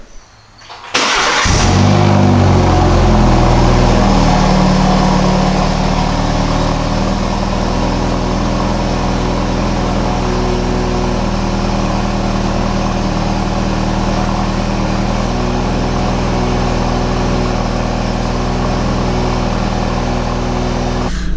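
A tuned BMW F30 330i cold-starts after a moment of quiet, with a loud crank and catch. The engine then settles into a steady, deep, even idle that runs on alone and close by.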